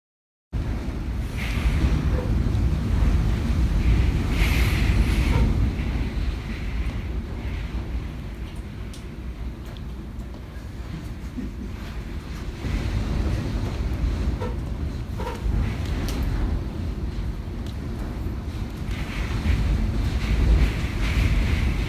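Strong wind during Hurricane Ida in mid-city, a loud roaring, gusting rush that swells and eases across the whole stretch with heavy low rumble, no talk.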